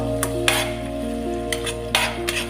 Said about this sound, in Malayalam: നല്ലതുപോലെ വഴറ്റുക.